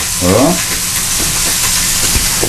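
Scallops sear in a hot pan with a steady, close sizzle and crackle, a brief voice sounding near the start.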